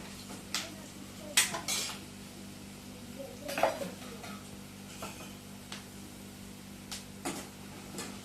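Peanuts being stirred in a pan while frying for an okra fry, with scattered close clinks and scrapes of a utensil against the pan and a faint background sizzle, no talking.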